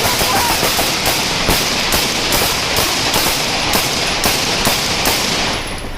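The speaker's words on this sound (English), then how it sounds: "Shot fire! Shot fire! Shot fire!" Gunshots ring out in a police shootout caught on a dashcam: loud, rapid, evenly spaced reports fire steadily for about six seconds over a constant background rumble.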